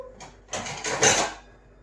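A small plate is set down over a cup holding a hot drink, giving one soft ceramic clink followed by a brief rattling settle, close and quiet.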